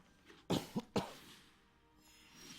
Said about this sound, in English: Pardon me, I need to cough.